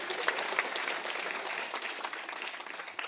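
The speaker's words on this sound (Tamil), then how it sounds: "தம்பிக்காக எல்லாரும் ஒரு ஜோராக கைத்தட்டிருக்கு." An audience at a movie audio launch event claps enthusiastically, a dense continuous burst of applause heard at moderate distance with no clear voices over it.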